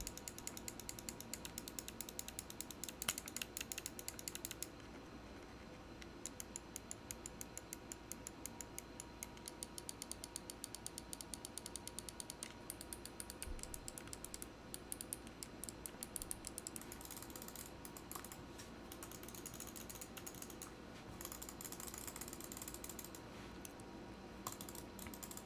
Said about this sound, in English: The clicks on the Model D- compared to the original Model O, honestly, I can barely tell the difference.